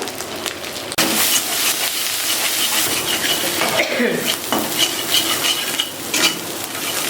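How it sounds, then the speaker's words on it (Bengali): Spice masala with turmeric and Kashmiri red chili powder is stirred and fried in a pan. A loud, steady sizzle runs throughout, with the spatula scraping and scuffing against the pan up close. "মশলা ভালোভাবে কষানো হয়ে গেছে।"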